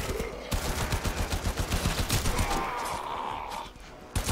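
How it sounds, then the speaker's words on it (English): Rapid automatic gunfire from the player's weapon in Warframe on Switch, a steady rattling stream of shots for several seconds, loud and close, fading toward the end. "guess I should use the gun a little bit."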